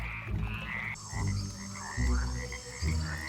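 Cane toad croaking in a series of four low, rough, pulsing calls, close and clear, with softer chirps from other creatures in the background.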